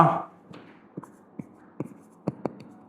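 Chalk or pen scratching out handwriting during a tax lecture, a steady scatter of short, crisp strokes and taps at close range with no talk in between.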